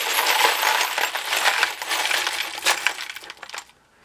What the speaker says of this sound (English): I'm always taking these bolts and playing shake and bake with them.